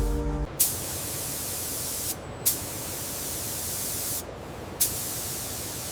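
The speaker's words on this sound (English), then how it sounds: "Here we see the collars receiving their final coat. The warm brushed bronze is applied flawlessly by the robotic system" A robotic spray system coats lamp collars with a warm brushed bronze finish inside a factory booth, giving a loud, steady hiss that briefly cuts out and restarts with a sharper burst about every two seconds.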